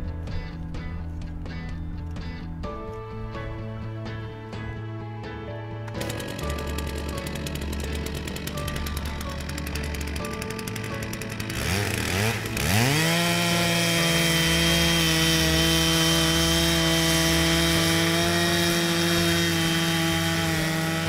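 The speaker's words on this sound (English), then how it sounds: "keep an even pressure on the chainsaw handle in order to make a straight and fine cut" A Logosol Smart Timberjig chainsaw mill cuts a log into one-inch boards. The saw idles and revs in short bursts, then settles into a loud, steady, close cutting roar with no talking.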